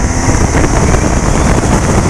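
A 2016 BMW R1200 RS motorcycle accelerating out of a turn on the road, engine roar blended with steady heavy wind rush over the microphone, loud and continuous throughout.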